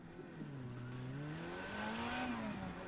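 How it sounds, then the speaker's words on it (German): A car drives past in the video game Another Crab's Treasure, its steady engine hum rising and falling in pitch as it moves through, loud and continuous with no talking. "da ist so ein Auto gerade vorbeigefahren"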